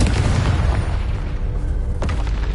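A Confringo spell explosion in Hogwarts Legacy lands as a deep, rumbling boom that rolls on through the whole moment, with a sharper crack near the end and no talk over it.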